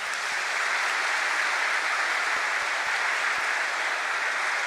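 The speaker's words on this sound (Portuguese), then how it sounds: "Vamos dar uma salva de palmas." A church congregation at an Easter Sunday Mass claps together, dense sustained applause filling the space evenly from start to finish, with no talking over it.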